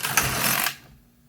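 A knitting machine carriage is run across the needle bed to release a finished piece of a knitted bag, giving a loud, steady mechanical whirring swipe for about two thirds of a second before it stops and falls quiet.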